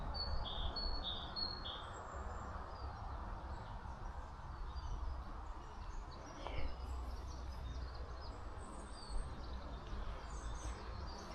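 Birds sing outdoors, with faint, distant high chirps scattered early over a steady low rumble of wind or ambient noise, quiet throughout.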